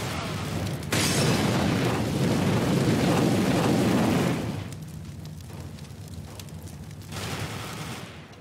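An incendiary grenade thrown in CS:GO erupts into a loud, roaring whoosh of burning fire that holds steady for about four seconds before dropping to a quieter crackling burn, with a brief swell near the end.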